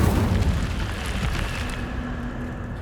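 An Incendio fire spell erupts in Hogwarts Legacy, a loud whooshing burst with rumbling low crackle that roars up close, then settles into a softer sustained roar with light sparkling hiss.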